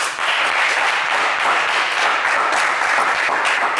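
A studio audience at a French television game show claps in a dense, steady burst of applause that carries evenly from start to finish, with no voices over it.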